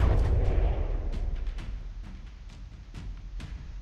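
Explosions and artillery blasts in a video game battle boom in a dense low rumble that fades, with several sharp, separate bangs cracking through over the following seconds, at moderate loudness.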